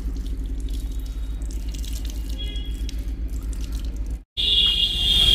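Tap water runs steadily into a sink while fruit is rinsed beneath it, a close, continuous splashing that breaks off for a moment and then comes back stronger.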